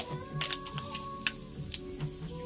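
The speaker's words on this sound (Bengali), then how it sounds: "শুকনো লঙ্কা ফোড়ন দিয়ে দিলাম" Dried red chillies drop into hot oil used to fry prawns, giving a soft, close sizzle with scattered sharp crackles and pops over a faint steady hum.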